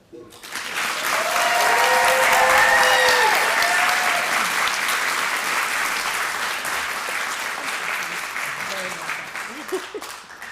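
Sustained audience applause at a Women's Hall of Fame ceremony as an honoree is welcomed, swelling quickly to a steady loud roar of clapping, with scattered shouts of excitement on top, then slowly thinning.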